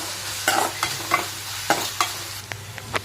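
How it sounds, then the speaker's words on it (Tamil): Tomato and onion sauté in a hot pan for Tamil paasi paruppu dal, with a steady close sizzle broken by repeated scraping stirs of a spoon. "அதையும் போட்டு நல்லா வதக்கி விடுங்க தக்காளி நல்லா வதங்கட்டும்"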